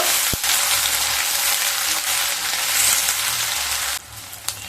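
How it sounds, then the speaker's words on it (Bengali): Onion and garlic fry lightly in a pan with a continuous close hiss and sizzle, broken by a couple of sharp clicks. "পেঁয়াজ আর রসুনকে হালকা ভেজে নেব।"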